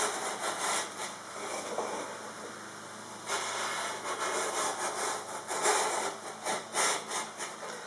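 A hand plane pushes through a cove molding groove in wood, giving repeated rasping strokes in uneven bursts, close and fairly loud, with no talking.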